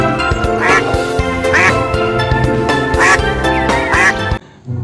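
A duck quacks repeatedly, loud and close, its nasal calls rising over a busy musical backing before cutting off abruptly.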